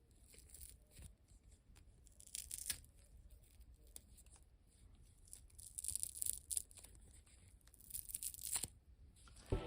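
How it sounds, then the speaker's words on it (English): Dry, crunchy crinkling and crackling as stiff doll hair is squeezed repeatedly, close up, in irregular bursts with no talking. "let's just listen to how crunchy this hair is."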